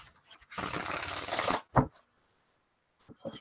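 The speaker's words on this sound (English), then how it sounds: "Let's give it a couple shuffles here." Oracle cards are riffled in one dense crackling burst lasting about a second, followed by a short soft flutter and a few faint taps, with no voice.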